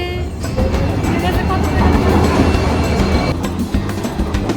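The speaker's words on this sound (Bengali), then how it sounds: "কিছুক্ষণ ওয়েট করার পর ঠিক টাইম মতোই ট্রেন এসে গেছে" A train rumbles and clatters close by in a steady, continuous roar as it arrives at a station, with people's voices faintly mixed into the noise.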